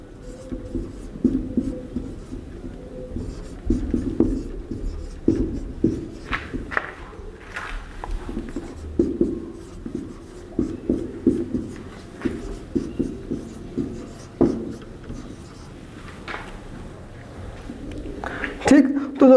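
Pen scratching on paper as numbers are written by hand during a class 10 maths lesson, with soft irregular strokes and taps running steadily under a man's speech.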